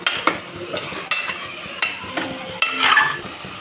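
Chicken curry mixture with gongura and salt is stirred in a pot, several sharp spoon scrapes and knocks against the metal over a low background sizzle, with no talking.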